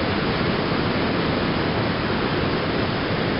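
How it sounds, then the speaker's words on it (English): Waterfall pouring into a pool under sunshine, a dense, even roar of rushing water that fills the whole stretch at constant loudness, with no voices. "And the falls, which is just spectacular."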